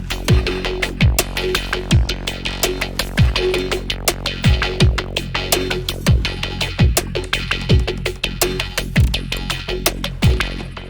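Glitchy electronic percussion loop with punchy repeating kicks, dense stuttering clicks and chopped bursts in a steady driving rhythm, loud and alone.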